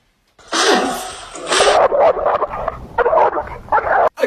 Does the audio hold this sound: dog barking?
yes